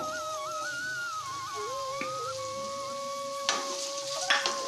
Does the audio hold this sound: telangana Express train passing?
no